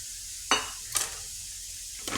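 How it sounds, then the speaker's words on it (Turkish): Steady frying sizzle of zucchini in a pan, with a few short clinks and scrapes of stirring breaking through at intervals. "Kabağımız kızarsın hemen."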